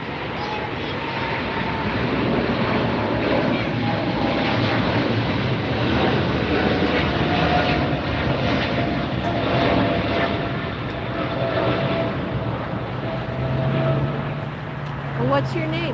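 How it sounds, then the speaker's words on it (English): British Airways Speedbird 280 airliner bound for London Heathrow taking off at LAX, a steady loud jet roar that holds throughout at a distance, with people talking faintly underneath. "Speedbird 280 to London Heathrow taking off."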